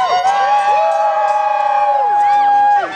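At a Minnesota Renaissance festival joust, a large outdoor crowd cheers and whoops for a knight, a continuous loud wash of voices with high shouts rising above it throughout.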